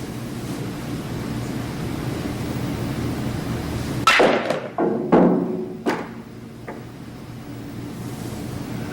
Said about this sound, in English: Now I'm going to try to draw the ball here